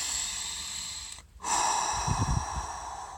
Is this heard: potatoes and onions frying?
no